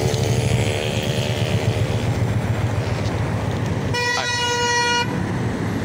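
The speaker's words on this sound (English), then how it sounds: "Yeah, honk at him." A car horn blares for about a second in busy street traffic, loud and sustained, standing over a constant rumble of engines and road noise.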